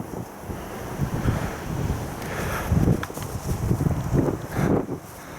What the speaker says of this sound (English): The wind is still causing a lot of ruffling.